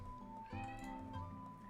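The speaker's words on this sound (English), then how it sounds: "He is going crazy meowing right now" A cat gives a couple of faint, drawn-out meows against a steady background hum, quiet and somewhat distant.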